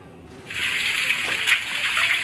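Duck meat curry gravy coming to a boil in a pot, a close, steady bubbling and sloshing that rises about half a second in and carries on at an even level.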